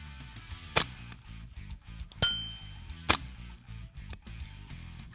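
Several sharp, light .22 rimfire gunshot cracks ring out at irregular intervals, one followed by a faint, distant metallic ding from a steel target at 200 meters.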